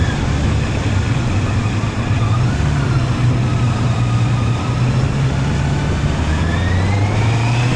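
A Honda CB650R E-Clutch inline-four motorcycle engine runs in a steady, loud, continuous drone with a deep low rumble and a slight rise in pitch toward the end, with no talking.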